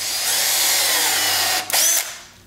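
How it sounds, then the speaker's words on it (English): Power drill boring into wood with a tapered bit while a handwheel is made for a Scout lathe, a steady close whine running nearly unbroken for about two seconds before tapering off. "I'm going to take a tapered drill bit,"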